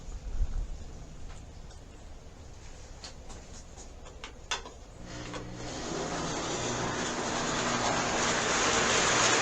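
A small model train clicks and whirs along its track, the motor hum and rattling growing steadily louder.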